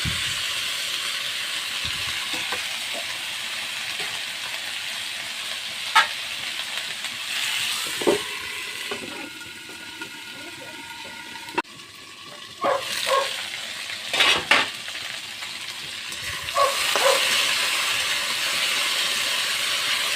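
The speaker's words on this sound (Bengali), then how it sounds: "ঢাকনাটা উঠিয়ে একটু নেড়ে নিয়েছি।" Ivy gourd (kundri) frying in a lidded pan, a continuous hiss and sizzle with a few sharp clatters midway as the lid is lifted and the pieces are stirred.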